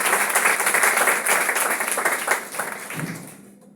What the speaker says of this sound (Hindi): एक बार सर के लिए जोरदार तालियां हो जाए।